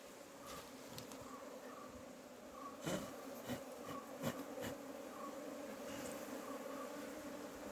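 A dense, steady drone of many honey bees buzzing close by at a hive, with a few light taps and knocks scattered through it.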